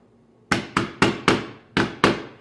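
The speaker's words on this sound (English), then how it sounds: "Or you can use a hammer." Six sharp hammer taps on the metal pieces of a Pella casement window roller screen ring out at a fairly steady rhythm, each with a short bright decay.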